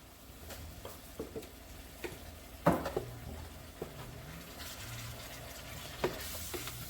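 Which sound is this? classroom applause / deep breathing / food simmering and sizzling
food simmering and sizzling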